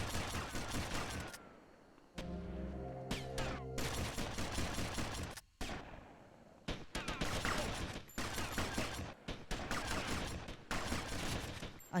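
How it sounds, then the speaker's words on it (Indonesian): Rapid bursts of game gunfire from GTA Vice City crackle in dense volleys, broken by short pauses and a stretch of lower tonal game sound, loud and close with no talking. "Apa sih yang ku tembak"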